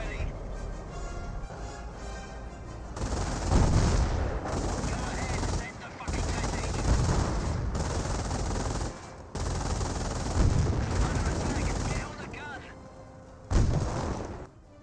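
MG42 machine gun bursts from the video game Company of Heroes, loud sustained rattling fire in several long bursts separated by brief pauses, with battlefield gunfire and a commentator talking throughout.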